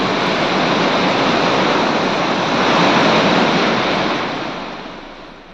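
The swollen Ganga river in Uttarakhand rushes after heavy monsoon rain, a loud, dense, continuous roar of fast water that holds steady and then fades slightly toward the end, with no voices.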